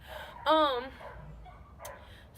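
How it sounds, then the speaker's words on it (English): Dogs barking and arguing, one sharp nearby yelping bark followed by fainter scattered yips, heard alone without speech. "Why are these dogs arguing?"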